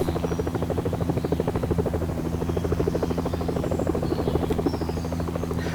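Helicopter rotor and turbine drone from the video game Helicopter Simulator 2014, with a steady rapid blade chop over a constant engine hum, loud and continuous throughout with no talking.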